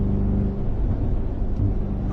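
A Mercedes-AMG G63 V8 SUV engine rumbles steadily at close range, a deep continuous exhaust drone with slight fluctuations.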